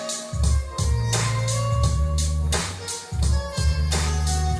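Jazzy hip-hop beat playing in a breakdown section, with the bass and drums pulled back so a looping melodic, chordal part carries on alone in a steady rhythm, clear and close with no voice over it.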